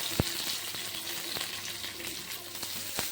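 Onions frying in hot oil with mustard seeds and curry leaves give a steady close sizzle, with a few sharp pops and clinks from stirring scattered throughout.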